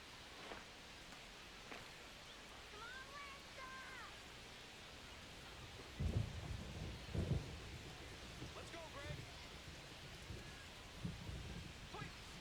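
Rain and rolling thunder in MLB The Show 25 during an Astros vs. Red Sox game: steady rain hiss throughout, with low rumbles of thunder swelling from about six seconds on, under faint commentary voices.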